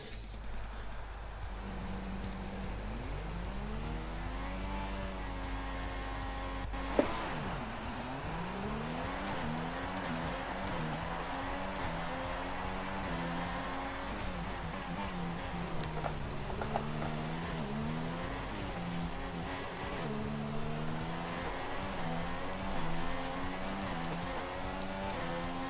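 Formula 1 race cars in F1 2016 at a Canadian race start howl through rising and falling engine revs, several cars overlapping as they accelerate and shift gears, steady and close.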